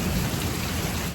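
Heavy first rain of the season pouring down in a village, a dense, steady hiss of drops close by, loud and unbroken with no voices.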